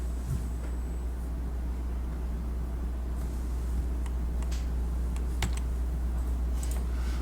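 A computer keyboard types a file name while saving an image as a JPG in Photoshop CC: sparse, light key clicks, fairly close, over a steady low hum, with no talking.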